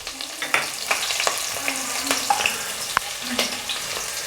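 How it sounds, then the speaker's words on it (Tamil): Small shallots, about ten halved, sizzle and crackle in hot oil for a mutton bone curry, a steady close frying hiss broken by sharp spoon scrapes and clinks against the pan, with no talking. "இப்போ இதில் சின்ன வெங்காயம் ஒரு 10 வெங்காயத்தை இந்த மாதிரி ரெண்டாக கட் பண்ணியிருக்கேன், அதையும் போட்டுக்கிறேன்."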